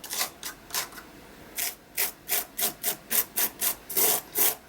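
Gritty texture paste being scraped over a journal cover makes a rapid series of close, rasping strokes, about a dozen quick rubs in a steady rhythm.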